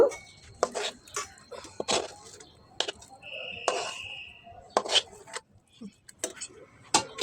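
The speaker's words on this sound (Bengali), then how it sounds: "এই প্লেটে হালুয়াটা ঢেলে দিব এবং বিছিয়ে দিব" Chickpea halwa poured and spread onto a plate brushed with ghee, heard as intermittent scraping and tapping of a utensil against the plate, close and sparse, with a brief tonal squeak.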